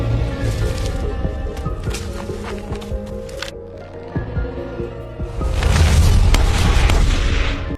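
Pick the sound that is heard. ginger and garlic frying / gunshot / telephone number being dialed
gunshot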